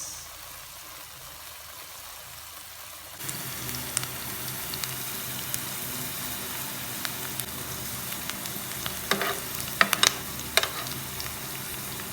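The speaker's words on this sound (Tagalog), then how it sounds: "Beef afritada naman ang lulutuin ko ngayon" Beef afritada cooks in a pan, first a quiet low hiss, then a louder steady sizzle with scattered clinks and scrapes from stirring.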